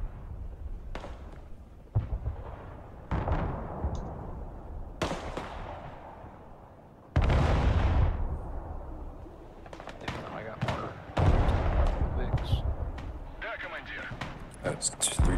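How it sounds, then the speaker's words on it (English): Artillery strikes pound a building in the Broken Arrow war game: several heavy booms with rumbling tails burst out at irregular intervals, close and loud, while a voice talks throughout. "I'm gonna hit it with artillery."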